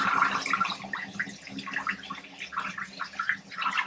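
Tap water runs and splashes over blueberries being washed in a kitchen, an uneven close spattering that swells and dips as the fruit is moved under the stream.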